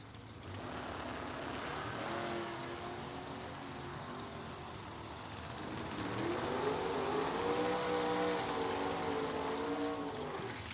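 Oldsmobile and Chevrolet drag race cars make a run at a test and tune event: a distant, steady engine roar that swells and rises in pitch partway through, with no voices.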